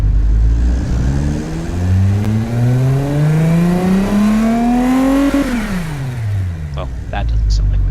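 Simulated car engine in a driving game revving up in a long rising sweep, then dropping back to idle, loud and close with a smooth synthetic tone.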